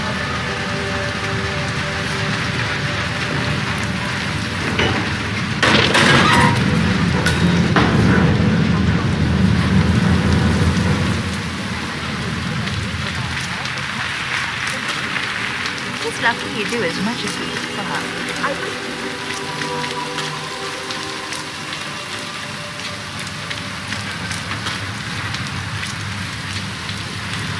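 Steady rain falls in the video game Hitman 3, a constant hiss running the whole time, swelling louder for a few seconds early on, while characters talk over it.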